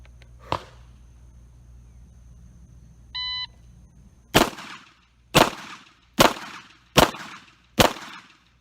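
Five loud, sharp shots from a Ruger LCRx 3-inch .38 Special revolver fired strong hand only, spaced roughly a second apart, preceded by a faint click and a short electronic timer beep.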